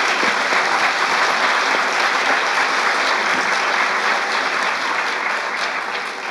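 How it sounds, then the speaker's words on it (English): An audience at a panel event on Africatown's redevelopment gives loud, continuous applause that fills the hall evenly and eases off slightly at the end. "So please give them a round of applause."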